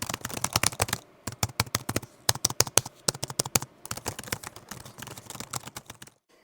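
Fingers type on the keyboard of a Chuwi Freebook N100 laptop, producing rapid, crisp keystroke clicks in uneven bursts with short pauses, heard close up and without voices.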